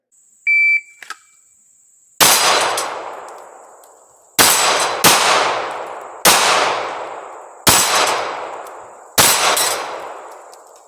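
One-handed pistol shots ring out on steel targets at a practice range: six loud, sharp cracks with ringing metallic clangs, spaced irregularly after a shot-timer beep, with a steady high tone in the background.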